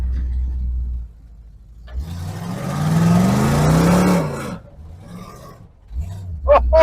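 A 1980 Pontiac LeMans engine roars and revs hard as the car spins a donut in grass, rising to a loud sustained howl before dropping back. Brief voices break in near the end.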